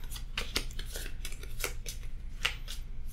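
A pack of playing cards gets shuffled at a tabletop game, with quick crisp riffles and snapping flicks coming in uneven bursts, close and fairly loud, and no voices over them.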